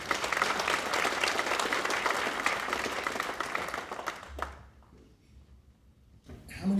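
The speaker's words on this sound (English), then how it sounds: "a round of applause for those folks." An audience at a Marine Corps birthday celebration applauds in a dense, steady wave of clapping that fades out after about four seconds, followed by faint room noise and a brief return of sound at the end.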